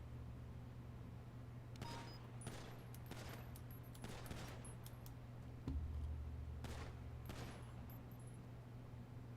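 Gunfire in the GTA video game, heard as a scattered series of sharp, faint shots at irregular intervals over a low steady hum.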